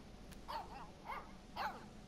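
Soft dog barks in the video game Life is Strange 2: three short, faint yips spaced about half a second apart over a steady low background hum.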